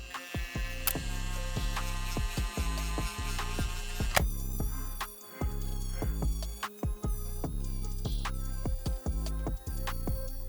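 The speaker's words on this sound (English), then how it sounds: "Now with the Dremel, I'm gonna go ahead and roughen up the material on the upper" A handheld Dremel rotary tool roughens the upper material of a custom Jordan sneaker, giving a steady, close, high-pitched electric whine that pulses repeatedly as the bit presses on and lifts off the surface.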